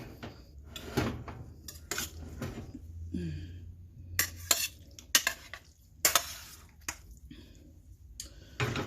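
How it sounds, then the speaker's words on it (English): Vegetable pot pie filling with potatoes being stirred and gently folded in a pot, with scraping spoon strokes, soft thick squelches and occasional sharp clinks of utensil against metal, close and irregular. "Kind of fold that so we don't want to break up the potatoes."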